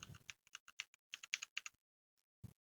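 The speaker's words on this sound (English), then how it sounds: "You only need to type a few things." Keys on a computer keyboard are struck in quick, close, crisp clicks, a brief pause, then a final tap.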